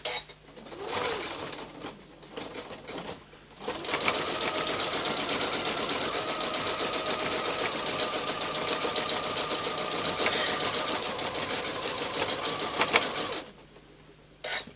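A sewing machine stitches down an appliqué leaf on a Valentine table runner, running in one sustained, steady whirring burst of about nine seconds with quieter handling before and after.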